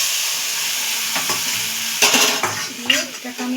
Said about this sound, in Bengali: এইবার এই ভাজা মাছের তেলের মধ্যে আমি দিয়ে দেবো সর্ষে বাটা।